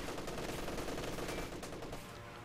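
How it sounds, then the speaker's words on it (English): Sustained machine gun fire in the strategy game Company of Heroes 2, a dense, continuous rattle of overlapping bursts at steady volume with no talk. "A lot of machine gun fire."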